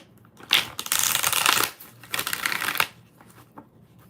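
Tarot cards are shuffled in quick riffling bursts, two long shuffles close to the listener with brief pauses between, no talking.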